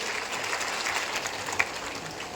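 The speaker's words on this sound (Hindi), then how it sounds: "जोरदार तालियों से हमारे राजनाथ सिंह जी का स्वागत करिए" Crowd applause at a public gathering welcoming Rajnath Singh, a steady wash of clapping heard from some distance, with no speaking over it.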